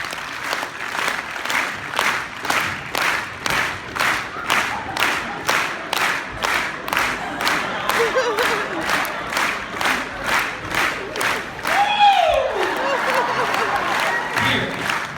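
Rhythmic unison clapping from a large audience at a fan convention event, steady beats about twice per second throughout, with crowd voices and a rising whoop near the end.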